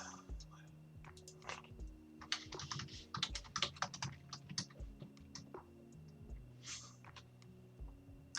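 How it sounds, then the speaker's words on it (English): Typing on a computer keyboard: irregular bursts of quick, light key clicks, soft and close, with brief pauses between runs and faint low voices in the background. "I'm gonna type it."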